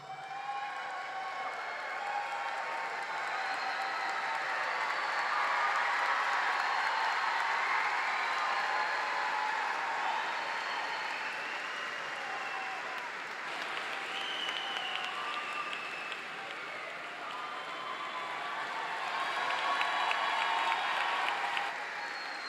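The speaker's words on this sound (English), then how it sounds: "another loud round of applause for our newest master's degree recipients" Sustained applause from a large crowd at a university commencement for master's degree recipients, steady and full throughout with no pauses, a faint cheer rising near the end.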